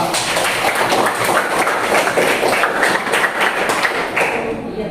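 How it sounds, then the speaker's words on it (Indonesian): A classroom audience claps for a student group's finished work, steady dense applause with scattered taps and thuds filling the whole stretch at close range. "Mari kita kasih tepuk tangan untuk hasil kerja kelompok 2"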